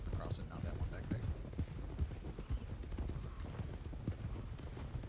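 Horse hooves clop along in the western video game RedM, an even rhythm of soft, muffled thuds at a slowed walking pace over a low background hum.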